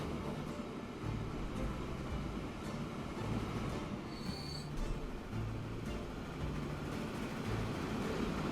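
A train running in the video game Transport Fever 2 makes a steady, dense rumble of rolling wheels with a brief high squeal partway through, heard continuously with no talk.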